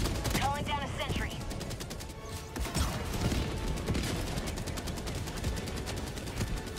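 Rapid automatic gunfire from a sentry turret in Helldivers 2 rattles continuously in dense bursts, mixed with explosions and game effects, with a voice heard briefly amid the din.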